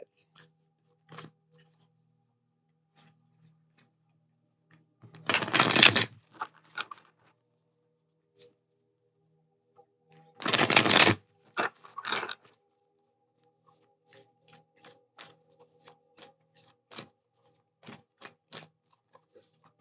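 Black Moon Astrology oracle cards being shuffled, two distinct riffling bursts in a quiet room, followed by scattered light taps and clicks of cards being handled.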